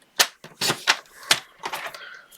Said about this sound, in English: I'm just going to trim these as I normally do by eye.